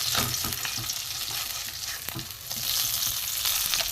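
Fish pieces frying in oil in a kadai, turned side to side until crisp, giving a steady close sizzle with occasional stirring scrapes and small pops throughout, no voices.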